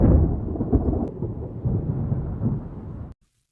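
Rolling thunder rumbles continuously outside for about three seconds, deep and heavy, as a storm builds before heavy rain, then cuts off abruptly into silence.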